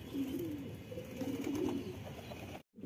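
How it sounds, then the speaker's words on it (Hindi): Patiala pigeons on a rooftop, with others in flight above after release, give low, continuous cooing that runs steadily before a brief dropout near the end. "अभी कबूतर खुल चुके हैं दोस्तों, थोड़े बहुत ये रहे, बाकी के ऊपर उड़ रहे हैं छत पे।"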